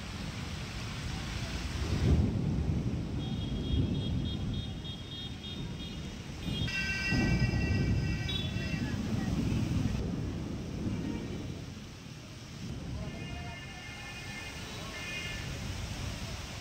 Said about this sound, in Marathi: दिवसभर सुरू असलेल्या या पावसामुळे अनेक सखल भागात पाणी साचले